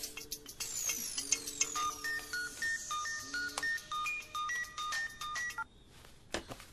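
A phone ringtone plays a repeating electronic melody of clear beeping tones in short rhythmic phrases, fairly loud and close, then stops abruptly near the end.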